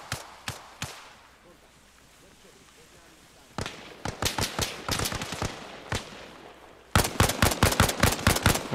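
Gunfire in the military shooter Arma Reforger on PS5: scattered single shots early, then dense bursts of rapid cracks, loud and close, with a quieter stretch of background between.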